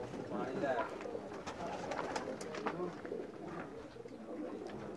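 Pigeons coo repeatedly in a loft kept by a Pakistani pigeon fancier, with scattered chirps and rustling around them and a voice talking over parts of it at close range.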